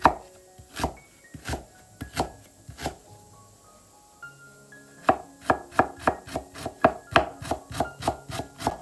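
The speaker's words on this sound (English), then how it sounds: "take a small piece of ginger and chop it into very fine cubes" A knife chops ginger into fine cubes on a board, with sharp, close knocks, a few spaced strokes at first, then a pause and a steady fast run of even chops.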